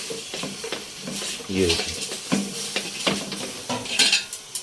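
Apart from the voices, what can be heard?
stirring meat and onions in pan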